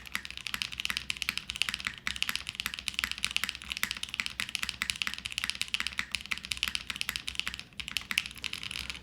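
Rapid, continuous clacking of a Vanguard65 mechanical keyboard fitted with bottom foam, dense close-up keystrokes in steady bursts with a couple of short pauses.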